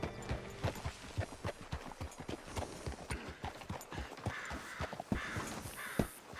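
Steady clip-clop of horse hooves from Red Dead Redemption 2, a brisk regular walking rhythm, with crows cawing in the background.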